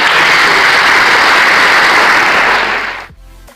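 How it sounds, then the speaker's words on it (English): Audience applause at a book event with Olympic high jumper Dick Fosbury, loud and sustained broadband clapping that fades and stops near the end, leaving a brief low hum. "Let's give them a warm round of applause."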